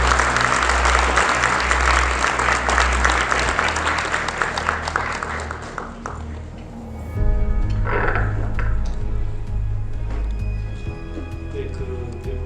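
A large lecture audience at a Korean landscape architecture society event applauds loudly and steadily for several seconds, the clapping thinning out midway, then a brief renewed swell before fading under a low hum.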